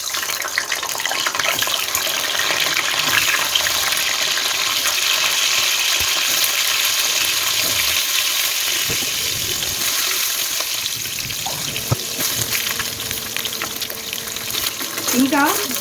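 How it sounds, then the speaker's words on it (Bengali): Eggs fry in hot mustard oil, a dense, continuous sizzling crackle that holds steady throughout, with brief sharper pops near the end. "ডিমগুলো এবার ভেজে নিচ্ছি"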